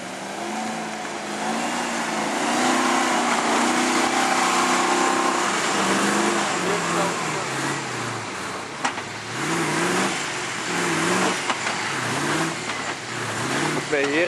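A Range Rover Classic V8 engine revs repeatedly and strains as it tries to climb uphill, its pitch rising and falling in loud surges, with people talking over it.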